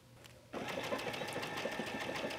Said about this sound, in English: I've set this machine so that it will do a tie off when I start